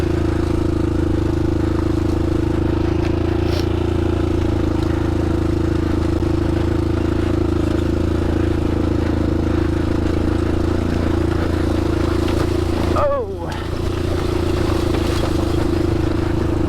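Steady, loud engine drone from a 2007 Honda 400ex quad climbing a long trail hill in third gear, holding a constant pitch close to the rider with a brief dip near the end; no talking.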